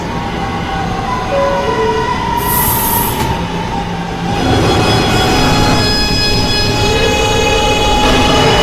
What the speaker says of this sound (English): This is a 53rd Street bound and local train.